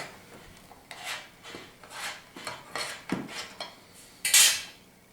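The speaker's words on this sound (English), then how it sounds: "You take your lid lifter and you remove the lid." A metal lid lifter prying the lid off a can of alcohol for an emergency car heater, with a series of scraping, rasping metal strokes building to a sharp, bright clank as the lid pops free.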